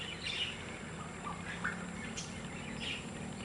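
Pet birds chirp outdoors in short, faint, scattered calls over a low background hum.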